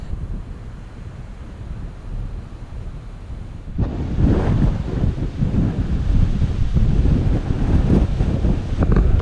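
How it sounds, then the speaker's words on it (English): Wind roars across the microphone, gentle at first, then gusting much louder and rougher after a few seconds and staying strong to the end. "Yeah, it's getting a bit windy now."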